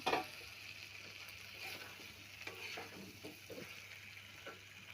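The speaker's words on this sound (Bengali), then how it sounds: "আর সয়াবিন আলু ভেজে রেখেছিলাম এই মশলার মধ্যে দিয়ে দেবো, দিয়ে ভালো করে কষিয়ে নেব।" Fried soybean chunks and potatoes are stirred into a spice paste in a pan, with a soft, continuous sizzle and the scrape and clatter of a spoon, heard close and fairly quietly.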